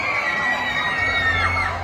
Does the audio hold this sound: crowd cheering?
yes